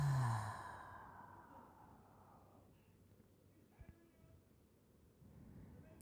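A single deep, audible exhale at the start of a guided breathing exercise, close and breathy, fading into quiet room tone with faint small sounds afterward.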